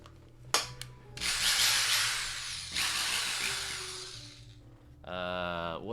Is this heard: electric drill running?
yes